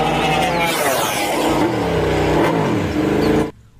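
A toy MotoGP motorcycle gives a loud, buzzing engine rev that rises and falls in pitch for about three and a half seconds, then cuts off abruptly to near silence.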